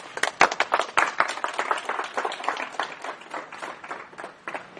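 A crowd greeting a future mayor bursts into dense applause, many hands clapping rapidly and loudly, with cheering mixed in, fading slightly toward the end.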